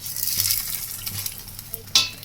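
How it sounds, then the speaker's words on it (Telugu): Obbattu (bobbatlu), sweet Indian flatbread, frying in oil on a pan: a soft steady sizzle with a few light scraping stirs and a sharper clink of utensil near the end. "ఫస్ట్ ఒకవైపు కాలిన తర్వాత మళ్ళీ ఆయిల్ వేసి 2 వైపులు కాల్చాలా."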